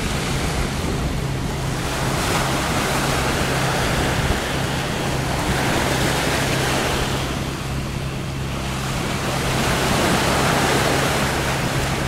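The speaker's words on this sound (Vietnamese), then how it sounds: "Quá sóng gió rồi." Rough sea waves and gusting wind around a steel boat on open water, a loud, continuous roar with slow surges of surf and a low steady engine hum underneath, and no voices.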